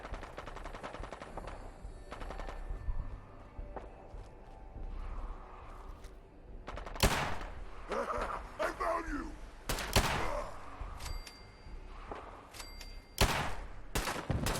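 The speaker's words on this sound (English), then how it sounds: "I'm shooting him right in the head with this gun, and it doesn't seem to do any damage" Redemption revolver gunfire in Fallout 4 gameplay: a series of sharp, loud shots at irregular intervals, with quieter game ambience and scattered clicks between them.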